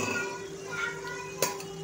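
Cooked pasta goes into a pan of thick masala sauce with a soft stirring rustle and a single sharp clink of utensil on metal near the end, close and fairly quiet.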